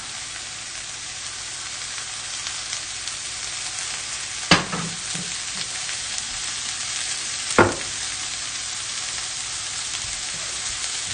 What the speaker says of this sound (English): All these delicious vegetables are already soaking up all that oil, so we're going to add a little more here.